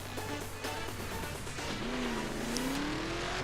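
Hot rod car engine in The Crew racing game, a steady engine drone under faint tire noise that rises in pitch as the car accelerates through a long gear, no talking.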